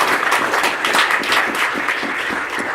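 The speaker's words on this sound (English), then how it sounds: "A round of applause for them, please." An audience at a talk applauding the event's hosts, a loud dense stretch of many people clapping that holds steady and fairly close from start to finish.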